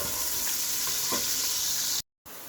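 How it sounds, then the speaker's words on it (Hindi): A large onion fries in oil toward golden brown, a loud, dense, steady hiss close up with faint stirring knocks, cut by a brief silent gap near the end before the sizzle resumes. "यहाँ मैंने एक बड़े साइज़ की प्याज ले ली थी, ये शामिल कर देंगे और इसको हम गोल्डन ब्राउन होने तक पकाते हैं"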